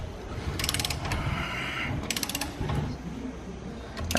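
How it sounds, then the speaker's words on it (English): A torque wrench ratchets on car wheel nuts during a Honda CRX build, giving quick bursts of metallic clicking close by, with short pauses between bursts over faint workshop background. "Now let's get our torque wrench."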